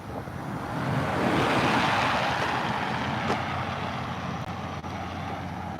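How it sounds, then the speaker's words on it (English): A ferry boarding at the Pelee Island dock gives off a low, steady rumble mixed with wind noise and washing water, moderately loud and continuous throughout. "Ferry's boarding right now. I think that's the last boat for today."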